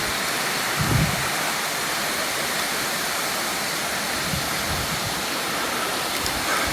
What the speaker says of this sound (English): here's Medaruni waterfall